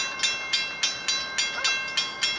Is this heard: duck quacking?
no